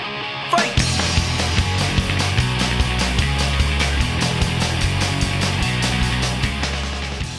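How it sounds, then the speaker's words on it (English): Crunchy, raw distorted electric guitar in a Christian rock song, entering after a brief pause and driving steadily with drums under a full band mix, loud and sustained throughout. "the guitar is a lot crunchier than most Christian bands of the time, which is to say it's not as smooth sounding"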